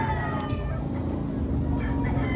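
Chickens and roosters sound at a busy poultry expo in Carbon Public Market, Cebu City, with clucks and crowing mixed into a dense crowd din, close and steady throughout.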